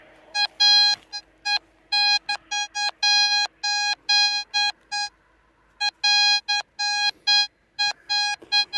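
Metal detector fitted with a butterfly coil at 17 kHz gives repeated doubled high-pitched beeping target signals, short clear tones in quick pairs and bursts with brief gaps, loud and alone with no talk.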